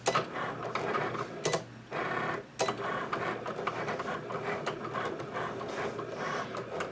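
A Cricut cutting machine cuts a monogram from removable vinyl with a steady whirring motor and rapid ticking and clicking movements. The sound runs continuously at a moderate, close level with no talk.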